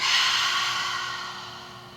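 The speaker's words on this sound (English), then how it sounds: "Draw the breath in and release." A single forceful exhale during a Breath of Fire breathing exercise, a strong breathy rush of air that starts loud and slowly fades over two seconds, close to the listener with no talking.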